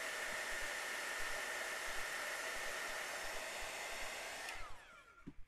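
A hair dryer blows steadily and loudly for several seconds to dry watercolor paper, then switches off and winds down, leaving a few soft handling bumps.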